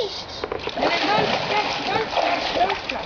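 A child splashes and sloshes water in irregular bursts close by, mixed with people talking over it.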